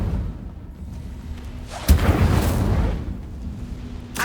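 The Incendio fire spell in Hogwarts Legacy erupts as a sudden whooshing burst that swells into a roar and fades over a second or so. A second short burst flares right at the end.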